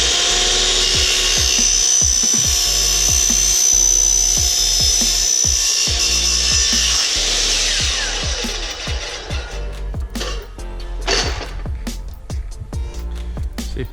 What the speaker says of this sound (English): this cuts through aluminum like butter and cuts it nice and flat and straight